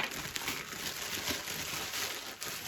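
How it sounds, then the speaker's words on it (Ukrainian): A parcel from a batch of lost mail packages is torn open by hand, its plastic wrapping crinkling and rustling steadily and fairly close for a few seconds, with no talk. "Відкриваємо наступний пакет."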